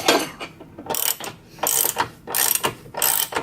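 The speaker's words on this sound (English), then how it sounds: "we're just using a 22 mil wrench to hold the bottom nut, and then he's tightening the top with a 22" A 22 mm wrench with ratcheting action tightens a nut on a BMW E36 control arm during an angle kit install, with loud close bursts of rapid clicking in repeated strokes separated by brief pauses.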